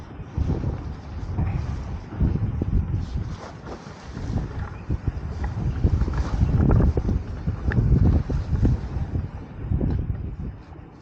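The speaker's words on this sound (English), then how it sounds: "It's getting really windy out here." Strong gusts buffet the microphone on a harbour shore while out fishing at low water, a loud, uneven rumbling roar that swells and ebbs continuously with no voices.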